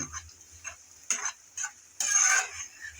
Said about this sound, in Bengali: এভাবে পরপর অনেকবার ভাজতে ভাজতে ভালোভাবে কিন্তু ভাজা হবে চিংড়ির একদম ভিতর অব্দি